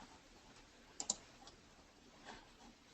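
A computer mouse gives two faint, sharp clicks close together, quiet and isolated against a soft background hush.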